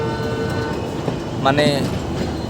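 The Modhumoti Express passenger train on the Dhaka to Rajshahi line rumbles steadily along the rails, with a short horn-like tone partway through, heard from inside while a person speaks briefly.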